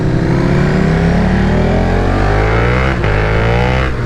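A flashed 2022 KTM Super Duke R motorcycle engine revs loud and close, its pitch climbing steadily in one long pull, with a couple of small dips near the end and no talking.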